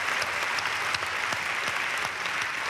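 A comedy show audience in Abidjan gives loud, dense applause for a comedian's mother, many hands clapping steadily and evenly throughout, with no talk over it.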